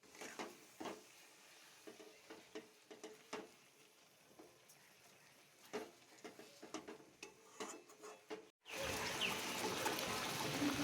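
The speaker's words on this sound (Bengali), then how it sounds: "চিনিটা দিয়ে আমি ভালোভাবে নেড়ে চেড়ে নেব" Raw mango pickle being stirred with sugar in a village kitchen, giving repeated soft scraping and stirring strokes at close range with a faint wet sizzle, then ending abruptly in a louder, steady hiss.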